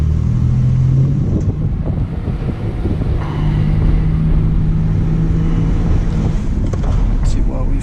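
A car driving along a road, heard as a loud continuous low rumble of engine and road noise with heavy wind buffeting on the microphone, a brief tonal hum partway through and no clear talk.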